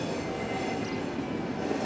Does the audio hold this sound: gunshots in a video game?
no